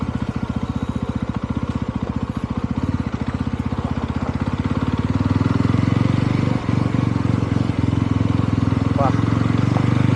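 A 2025 Yezdi Roadster motorcycle engine thrums steadily while riding, loud and close, its pulsing exhaust rising slightly in pitch partway through, with someone speaking over it.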